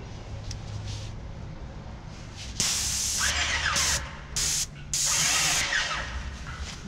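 A paint spray gun blasts out water while being cleaned of leftover paint, giving loud, close hissing bursts that start and stop several times.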